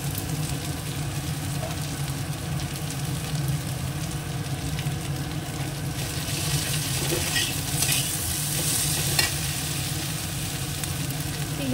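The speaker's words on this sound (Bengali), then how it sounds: "আলুটা আগে ভেজে নেবো, তারপরে একটু পরে পেঁয়াজটা দেবো।" Potatoes fry with onion in a pan, making a constant sizzle with the scrape of stirring on top, close and steady throughout.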